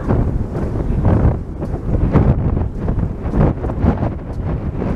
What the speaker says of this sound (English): The wind's definitely picking up a little bit.